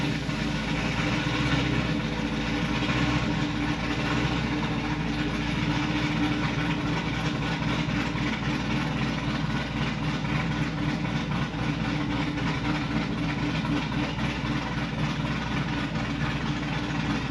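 A deep, steady idle from a sixth-generation Camaro LT1 V8 with a performance cam, low rumble and slightly uneven, loping pulse, continuous and close throughout.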